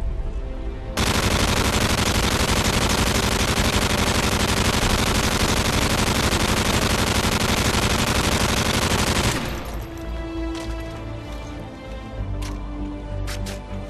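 An MG36 light machine gun fires in Modern Warfare 3 multiplayer, a loud, unbroken automatic burst lasting several seconds before cutting off into fainter scattered shots and game noise.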